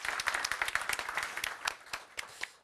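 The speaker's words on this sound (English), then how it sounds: "An applause for that." Audience applause at the 2024 NATO Youth Summit in Stockholm, a burst of hand clapping that starts full and thins out over a few seconds, close and fairly loud.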